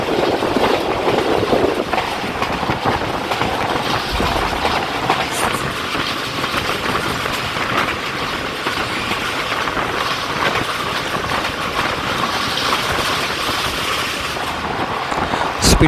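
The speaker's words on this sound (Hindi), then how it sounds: "स्पीड गुजर रही है इस वक्त जाफर एक्सप्रेस।" The Jaffar Express rushes along at speed between Lahore and Rawalpindi, a loud continuous rumble of wheels and carriages heard close up, with rhythmic rattling and no talking.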